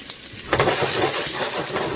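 Chopped garlic hits hot oil in a pan for an Indian-style lobster curry, a sudden loud sizzle that jumps in after a quiet moment and keeps crackling steadily, close and alone.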